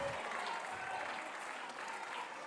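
An indoor volleyball crowd claps and cheers for the Saints in a sustained burst of applause, with a voice faintly audible underneath.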